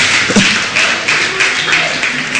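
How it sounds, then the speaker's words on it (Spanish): A church congregation at a Spanish-language worship service claps together in loud, close bursts that come in a rough repeating rhythm, with a faint voice underneath. "Dale fuerte el aplauso, dale fuerte."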